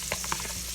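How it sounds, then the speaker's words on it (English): Burgers sizzle in a hot pan, a steady close hiss of frying with small crackling pops and no talking. "You hear sizzles just like burgers as you would"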